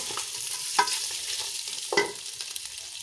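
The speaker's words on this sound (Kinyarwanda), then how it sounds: "Urazikaranga kugeza igihe zifatiye irangi" Meat browning in a pan for a green banana and meat stew, a steady sizzle broken by two sharp scraping stirs, close and fairly loud with no voices.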